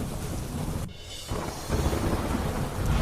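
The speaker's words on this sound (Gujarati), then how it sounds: "2 દિવસનો વિરામ બાદ ધીમી ધારે જામ્યો વરસાદ" Steady rain falling during a Gujarat monsoon shower, a dense continuous hiss with gusty wind buffeting the microphone and a brief dip partway through, loud and close with no voices.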